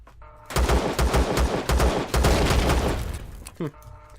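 Shotgun blasts against blocks in the game Empyrion, a run of loud, close booming shots in quick succession, then a pause and one last short burst, with someone talking faintly around them.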